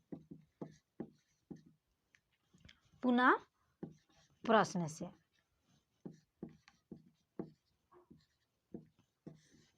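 Chalk or a marker writes out a maths solution on a board in a series of close, sharp taps and short strokes, with a voice speaking briefly in between.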